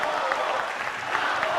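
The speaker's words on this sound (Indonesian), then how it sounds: "kita berikan tepukan yang paling meriah untuk para calon pemimpin Indonesia" Audience applause for the candidates after an Indonesian presidential debate, a steady dense wash of clapping from a large hall, loud and continuous through the short stretch.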